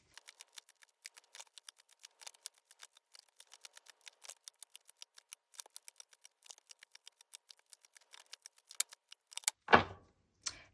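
Tarot cards being shuffled, a long run of quick, crisp, evenly spaced card flicks up close, ending in a louder riffle and a brief burst of handling, with no talking.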